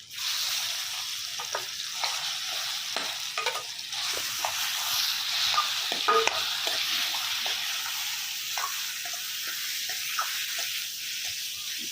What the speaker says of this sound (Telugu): ఇప్పుడు పచ్చడికి దీని తాలింపులు వేసేసుకుంటున్నాను